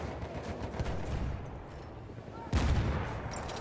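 Battlefield 1 gunfire in a multiplayer match, bursts of dense rattling shots with a louder, heavier volley near the end, all fairly close and continuous.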